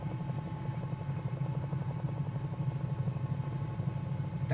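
A Bell 222B helicopter in Microsoft Flight Simulator drones with a steady engine and rotor hum, a continuous low pulsing throb at moderate level with no voices.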